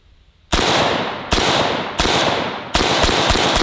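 Four loud, sharp gunshots from a 7.62x39 AK-47 rifle, each a hard crack with a long ringing decay, spaced irregularly about a second apart.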